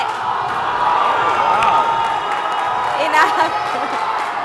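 A crowd at a climbing competition final cheers and whoops loudly throughout, with swells of excitement and voices talking over the roar.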